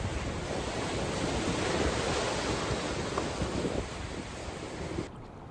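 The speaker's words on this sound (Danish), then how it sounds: "Her prøver man kræfter med bølgerne på åbent hav." Open-sea ocean waves surge in a continuous loud wash, wind rushing across the microphone throughout before it drops away near the end.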